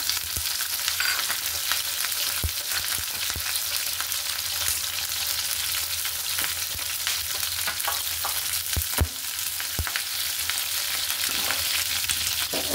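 Garlic and onion fry in soybean oil in a pan, producing a continuous crackling sizzle up close, broken by a few sharp clicks and scrapes from stirring. No one speaks.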